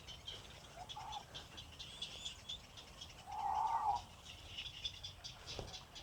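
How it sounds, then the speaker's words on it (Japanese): Birds call in a park: scattered short chirps and tweets with a couple of louder rattling calls, moderately close over quiet outdoor background. "この公園は鳥がたくさんいます。"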